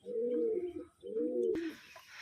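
Pigeons cooing in a loft, two long throaty coos in a row, close and clear, followed by a brief sharp knock and a hiss of background noise.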